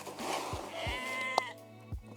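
Sheep on a homestead give one clear, wavering bleat, with a few soft thuds and a short sharp knock nearby.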